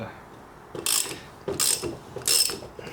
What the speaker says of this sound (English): And then we will take our handy dandy 32 mil. Start snugging her down.